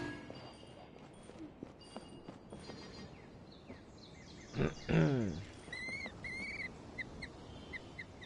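A short, squawking bird call rings out in Genshin Impact, with a few chirps following over faint game ambience and low background rumble.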